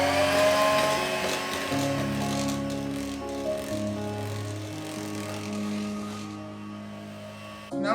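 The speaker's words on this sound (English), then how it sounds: "we're gonna blend our pumpkin into the butter and sugar mixture" An electric hand mixer blends pumpkin into a butter and sugar mixture for keto pumpkin bread, its motor whirring steadily and close, shifting in pitch as it churns, then cutting off abruptly at the end.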